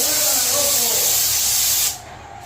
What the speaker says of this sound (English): I'm going to spray it heavy